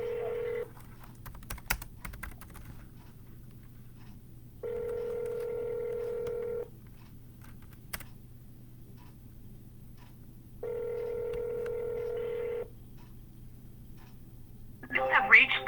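A telephone on a cold call placed from a real estate office: a low hum underneath, a few faint dial clicks, then two long, evenly spaced ringback tones, with a higher electronic tone at the very end.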